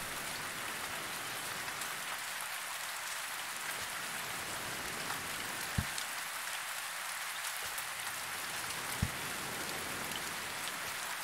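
Steady rain hisses across the wilderness in the survival game Survisland, a dense, even wash with a couple of faint soft knocks and no talking.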